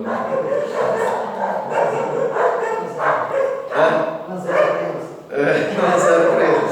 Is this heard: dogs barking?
yes